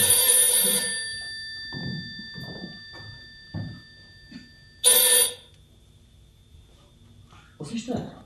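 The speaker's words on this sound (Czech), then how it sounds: "Zvoní telefon." A telephone bell rings on stage during a theatre performance of The 39 Steps at Dejvické divadlo, two bright rings with actors' speech in between.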